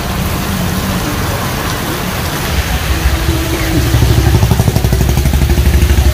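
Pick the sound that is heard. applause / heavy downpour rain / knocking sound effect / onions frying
heavy downpour rain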